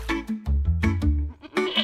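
A goat bleats loudly and close in a run of quick, wavering, nasal cries, several calls crowding one after another with no talking.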